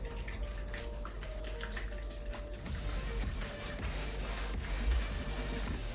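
Yogurt being whisked into a creamy spinach pasta sauce, a steady wet, sloshing stir that continues throughout at a low, even level with no talking.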